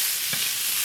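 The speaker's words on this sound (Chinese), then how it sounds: "锅里少倒点油，把洋葱倒进，轻轻拨拉一下。" Onions tossed into a wok with a little oil give a brief, bright sizzling hiss with one soft stir, heard alone.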